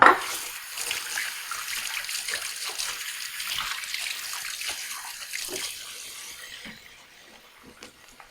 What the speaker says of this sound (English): I'm going to rinse my hands really quick.